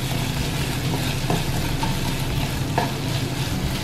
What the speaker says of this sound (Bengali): এই উপাদানগুলো দিয়ে আবারও ভালোভাবে মিশিয়ে নিতে হবে।